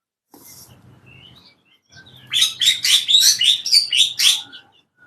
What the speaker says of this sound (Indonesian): Di sana juga ada jalak suren.